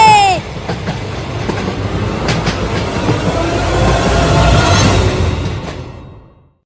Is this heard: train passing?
yes